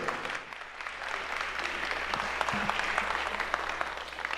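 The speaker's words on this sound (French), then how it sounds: "Un discours chaleureusement applaudi par l'assistance" Audience at a Haitian diaspora gathering applauding a minister's speech: steady, moderately distant clapping runs throughout, with faint voices mixed in.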